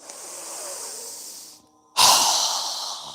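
A deep breath during a yoga breathing exercise, close and airy: a long hissing inhale, a short pause, then a sharp, forceful breath that tapers away.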